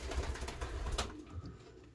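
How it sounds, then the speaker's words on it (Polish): Pigeons cooing in a loft, a couple of soft throaty coos with a faint flutter, close and brief against light background noise. "Tu mamy gołębie nawet od Janusza Bodego z Zakopanego."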